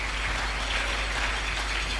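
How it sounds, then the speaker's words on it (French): Loud, dense applause from a church congregation during a sermon, continuous clapping filling the space for a couple of seconds without any voices on top. "Acclamons très fort."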